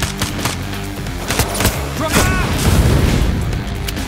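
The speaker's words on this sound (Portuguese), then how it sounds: "eu gosto dessas explosões" Heavy booming explosions and rapid gunfire rumble in a dense, continuous battle mix from the game Payday 3, loud and layered with crashes.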